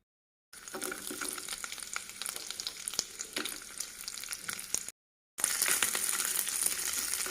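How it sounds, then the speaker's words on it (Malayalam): Coconut pieces and cashews frying in hot ghee, a continuous close crackling sizzle with sharp pops and stirring clinks, briefly cut off by a short silent gap before resuming louder. "കുറച്ച് നെയ്യ് ചേർത്തിട്ട് നമുക്ക് നെയ്യൊന്ന് ചൂടായി വരുമ്പോഴത്തേക്ക് കുറച്ച് തേങ്ങ കൊത്ത് പറങ്ങാണ്ടി ഒന്ന് വറുത്തെടുക്കാം"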